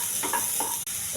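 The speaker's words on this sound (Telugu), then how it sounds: "ఉల్లిపాయలు, పచ్చిమిర్చి ఇవన్నీ వేగాలండి బాగా." Onions and green chillies sizzle in a hot pan, a steady close frying hiss with soft stirring scrapes throughout and one brief dropout near the end.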